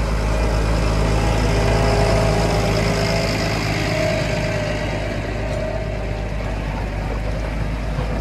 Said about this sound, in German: Hier fährt er quasi in Standgas durch, wegen den Steinen.